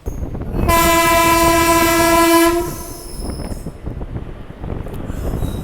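On its inaugural run, the 17062 Narasapur-Cherlapalli express departs Palakollu station 17 minutes late, sounding one long, loud horn blast of about two seconds, followed by the rumble and clatter of the moving coaches.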